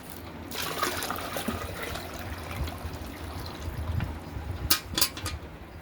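Water streams steadily into a bucket with a constant rushing trickle, a couple of sharp clanks near the end, fairly close.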